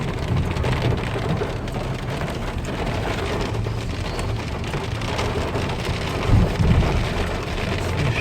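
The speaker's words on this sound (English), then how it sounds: "it rains like every other day in Georgia, but this is unreal" Heavy rain pours steadily on a flooded street in Georgia, a dense, unbroken wash of close drops that swells briefly near the end, with no voices.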